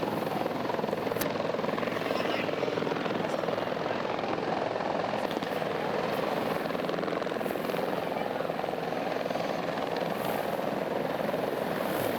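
A police helicopter drones loudly and continuously overhead at Ohrid harbour, its rotor thump steady and close throughout with no pause.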